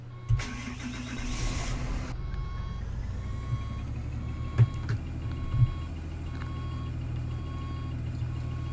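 Engine startup of a 2008 Blue Bird Vision school bus in the Rigs of Rods game: a short starter crank, then a steady idle rumble with repeated reversing beeps and a few faint clicks.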